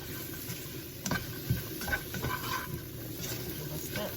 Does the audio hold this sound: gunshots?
no